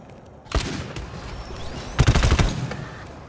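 Automatic weapon fire in the co-op shooter game GTFO: a short burst, a pause, then a dense rapid volley of loud, close shots.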